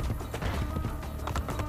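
Horse hooves gallop in a rapid, rolling clip-clop in the video game Assassin's Creed Brotherhood, steady and fairly loud within a full game soundscape, with no clear voices.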